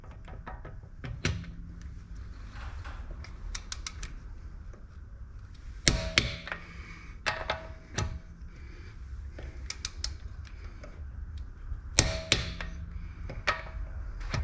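Torque wrench tightening wheel lug nuts on a Tesla: sharp metallic clicks and thunks come in small clusters, with quieter ratcheting and handling noises between them, close by and without speech.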